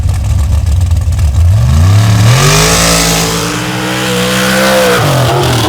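Ford Bucket pickup truck engine at a truck pull, loud and close, rumbling low, then revving up sharply and holding a high, harmonic-rich roar before easing briefly.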